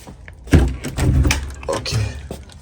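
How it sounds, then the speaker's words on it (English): An apartment door is opened, giving a firm thunk of the latch and a knock of the door moving, close and fairly loud, with a voice in the room around it. "Oh, let me open my door."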